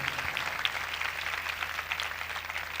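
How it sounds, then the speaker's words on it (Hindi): A congregation at a church service applauds with steady, dense clapping that holds evenly throughout and carries no speech over it. "उस हस्ती के लिए ज़ोरदार तालियां बजाएं।"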